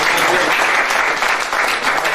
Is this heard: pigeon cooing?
no